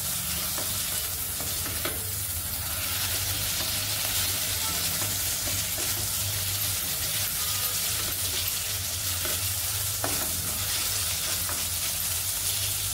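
Food fries in oil in a pan with a dense, unbroken sizzle, close and fairly loud throughout, with faint stirring scrapes now and then beneath the crackle.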